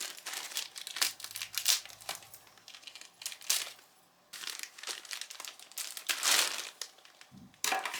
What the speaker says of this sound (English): Got my little scissors.